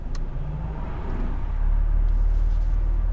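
A Mercedes-AMG GLE 53 Coupe in Sport Plus mode gives a steady deep engine rumble from inside the cabin, swelling slightly louder and lower partway through with no voices over it.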